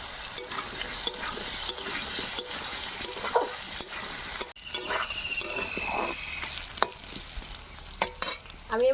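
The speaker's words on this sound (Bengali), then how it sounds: "প্রথমে ভেজে নেব আলু।" Potatoes frying in a pan for a prawn and ash gourd curry, a steady close sizzle with stirring scrapes and light spatters throughout, no talking.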